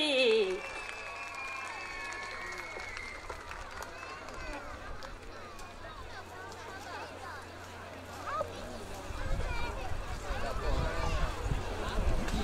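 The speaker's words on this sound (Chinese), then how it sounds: "尖叫掌声欢迎武立方赵敦义" Applause and cheering from a New Year's Eve gala audience welcoming a cube-dance performer, a broad, steady clatter of clapping that swells louder near the end, with some music tones at the start.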